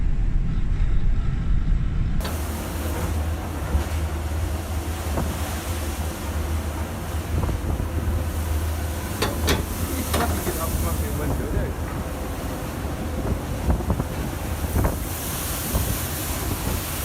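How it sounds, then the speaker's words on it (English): Wind gusts and ocean water splashing on a ship's deck in a storm at sea, with a constant roar of wind buffeting the microphone, crashing waves and occasional sharp splashes, loud and close throughout. "These images capture gusts of wind on the deck of the ship and splashes of ocean water around"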